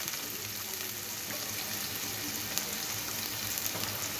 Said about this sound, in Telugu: ఈ నూనె కాగాక ఉల్లిపాయలు వేసుకుందాం